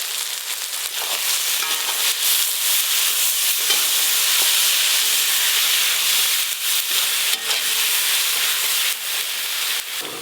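Chopped onion with garlic and ginger paste sizzles and fries in hot oil for a mutton curry, a loud steady hiss with occasional stirring scrapes, close and continuous without talk.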